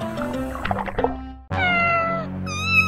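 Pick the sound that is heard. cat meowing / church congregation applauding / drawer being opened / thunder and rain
cat meowing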